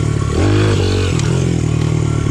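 A Honda CRF 100F dirt bike, bored out to 120, revs hard with the clutch let out, a loud close engine note that climbs and drops over about two seconds, with no talk.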